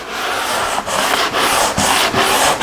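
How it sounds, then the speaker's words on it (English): Sandpaper rubs back and forth against a metal part from a Toro Personal Pace mower engine, a loud, close, steady scratchy grind broken by brief pauses at each stroke change. "I'm just going to just move this thing around and sand it."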